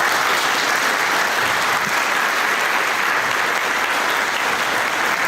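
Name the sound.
applause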